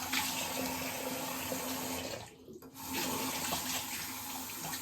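Warm tap water runs steadily into a bathroom sink during a razor shave, a close, even rush that briefly cuts out for a moment before resuming, with no talking.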